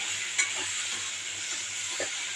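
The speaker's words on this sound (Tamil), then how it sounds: "இப்போ இது கூட நம்ம வேக வச்ச மொச்சையை சேர்த்து நல்லா கலந்து விட்டுக்கலாம்" Boiled field beans stirred into a sizzling masala in a pan, with a steady frying hiss and a few soft scraping stir strokes, no talking.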